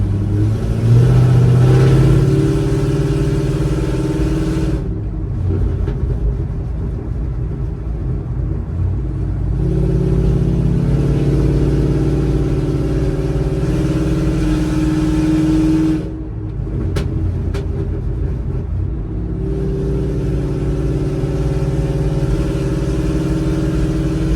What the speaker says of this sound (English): if you want to listen to the car, I'll just leave it on for a couple seconds